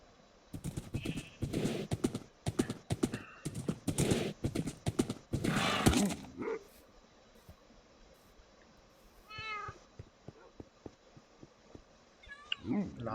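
Horse in the video game Minecraft, with hooves clip-clopping and a couple of short whinnies. Steady talk fills the first half, then the game sounds continue more quietly on their own.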